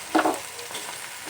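Tomatoes sizzle as they go into a hot pan for chicken biryani, a short burst of frying and stirring that quickly settles into a soft, steady sizzle, close and alone.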